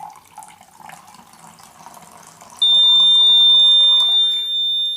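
Water poured into a container for a simple school water level indicator project, a faint trickle and splash running for a few seconds before a loud, steady electronic alarm tone sounds once the level reaches the top.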